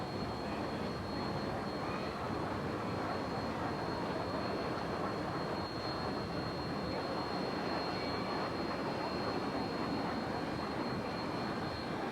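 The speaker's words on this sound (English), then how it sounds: "This tractor in front of the grandstand is a 1936 John Deere Model B, owned by Ron Van Sant from Oskaloosa, Iowa." A 1936 John Deere Model B tractor engine runs steadily in front of a grandstand at an outdoor show, a continuous broadband drone with no clear beat, heard alone with no talk.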